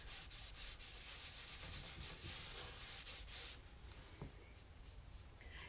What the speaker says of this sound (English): And I'll put wax across that whole side